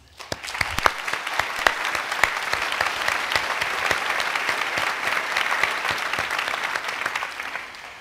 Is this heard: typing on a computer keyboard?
no